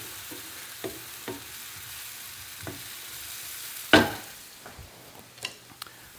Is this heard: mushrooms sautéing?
yes